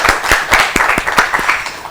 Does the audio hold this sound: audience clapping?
yes